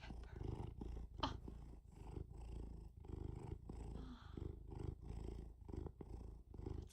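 A cat purring steadily up close, a low continuous rumble rising and falling with each breath, with no talking.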